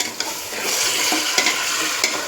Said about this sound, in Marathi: आता आपण यात मुंडी वाफलून घेतली होती ती टाकणार आहोत. ते पण चांगलं परतून घ्यायचं आहे